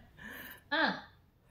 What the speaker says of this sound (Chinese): 好大的哈欠